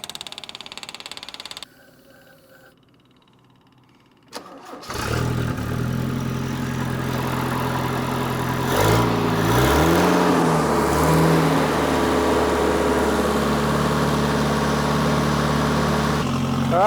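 After a quiet pause, a Toyota Celica RA28 engine cranks and catches, then settles into a steady idle with a couple of rising revs. It sounds close and fairly loud, fed by an electric fuel pump.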